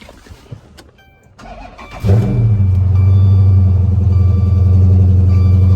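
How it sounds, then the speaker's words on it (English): A Dodge Charger SRT8 engine, running rough with its check engine light on, cranks briefly, then catches and starts, settling into a loud, steady idle rumble close by. "We're gonna try to crank it up real quick."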